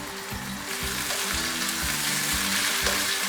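Steady, close sizzling of onions frying in a pan, continuous throughout with faint stirring and clatter underneath.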